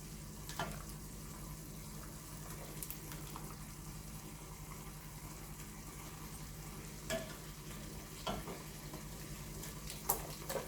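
Fettuccine and shrimp frying in a hot pan, a steady soft sizzle with brief splattering pops and a few clinks of stirring, close and fairly quiet, no talking.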